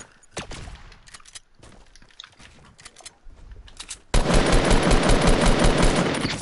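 Rapid video game gunfire during a battle-royale duos match: scattered shots and footsteps give way to a loud, sustained burst of automatic fire that dominates the last couple of seconds.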